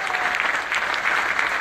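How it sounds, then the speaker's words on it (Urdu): Audience applause in a hall at an Urdu literary conference, a dense, steady burst of many hands clapping together, loud and sustained through the short stretch. "تو ان سب کے لیے تالیاں بجائیں"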